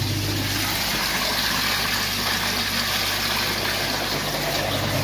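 Water rushes steadily through piping after a valve is opened on a moving bed filter system, a loud, unbroken gushing flow with a low mechanical hum underneath.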